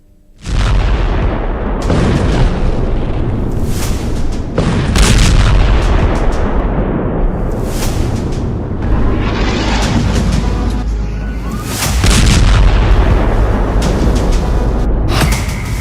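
Loud, repeated explosive booms and blasts from an Israeli strike on Yemen rumble one after another, heavy and close, with crackling bursts between them and no talking.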